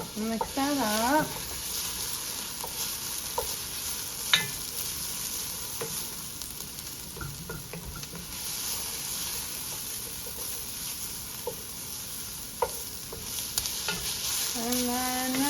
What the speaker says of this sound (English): So I'm just going to go ahead and throw some garlic in, about 2 teaspoons of garlic, and mix that up.